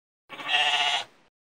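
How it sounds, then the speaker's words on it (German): A single close, loud sheep bleat, a lamb's wavering cry lasting about a second, heard alone against silence. "das ist kein Haushund, das ist ein kleines Schaf."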